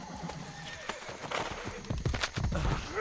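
A horse whinnies and its hooves clop in the video game Assassin's Creed Brotherhood, a close neigh followed by several quick hoofbeats building toward the end.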